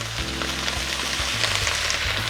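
Steady, loud sizzling and crackling of stir-fry vegetables frying in a hot pan with salt and liquid added, continuous throughout with no voices.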